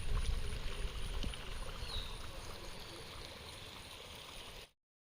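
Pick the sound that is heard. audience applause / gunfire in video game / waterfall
waterfall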